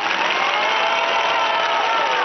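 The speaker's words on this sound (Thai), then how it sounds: "ขอเสียงปรบมือครับ" Dense audience applause in a hall during a student representative's speech, a steady wash of many hands clapping at close range, loud and unbroken throughout.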